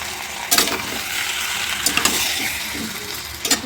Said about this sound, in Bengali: চিকেনটা দিয়ে আস্তে আস্তে নেড়ে নেড়ে কষা করি